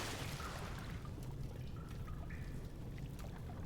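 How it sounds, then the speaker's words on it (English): Water sloshing and splashing in a sewer in Amnesia: The Dark Descent, a faint, steady watery trickle and swirl with low rumble underneath, continuous throughout with no talk. "Are you just splishy splashing to let me know you exist?"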